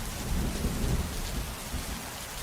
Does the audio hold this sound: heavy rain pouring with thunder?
yes